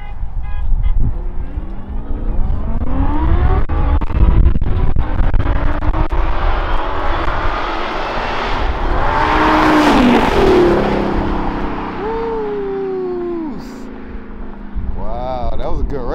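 A Lamborghini on 32-inch wheels and a Dodge Hellcat Redeye Charger drag race, engines roaring loudly and rising past close by with a broad swelling rush, then fading, with voices talking and a brief horn toot near the end.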